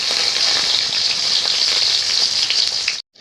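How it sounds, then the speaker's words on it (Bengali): Chopped onions fry in a pan with a dense, steady sizzle that holds evenly and then cuts off abruptly near the end. "এবার এর মধ্যে দিয়ে দেবো পেঁয়াজ কুচি। ভালো করে আমি নেড়ে নেব, ভাজা ভাজা করে নেব।"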